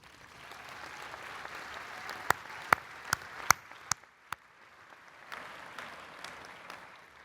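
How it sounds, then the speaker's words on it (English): A commencement audience at a medical school graduation applauds the faculty, a broad, steady wash of clapping from a large crowd with a few sharp nearby claps standing out partway through. "They deserve a round of applause."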